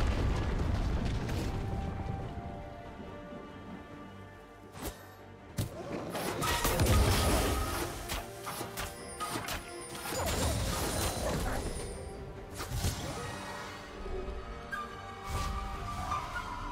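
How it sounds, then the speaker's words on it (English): A turret is destroyed in the video game League of Legends with a burst of crashing, crumbling impacts and booming debris, loud and close, followed by scattered smaller clatters and rumbles as the structure collapses. "Red team's turret has been destroyed."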